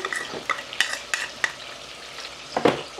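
Garlic frying in oil in a pan for fish bhuna, a steady sizzle under repeated spatula scrapes and stirs, close and clear.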